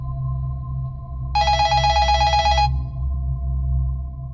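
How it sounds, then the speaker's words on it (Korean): A bright, rapid telephone bell rings in one burst of about a second and a half over a steady low hum. "준호는 더 이상 무시할 수 없었고 역무실로 전화를 걸었습니다"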